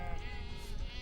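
A sheep bleats loudly and close by in one sustained, quavering call, kept by Kazakh nomads at a grassy watering place.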